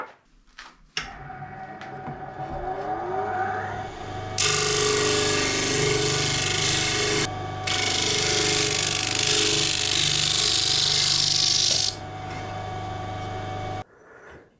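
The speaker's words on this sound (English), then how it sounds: "I'll just get those whizzed off on the disc sander" A disc sander rounds off the corners of a wooden Les Paul Junior guitar body, its motor spinning up and then loud bursts of abrasive grinding in two long passes, before the motor runs down.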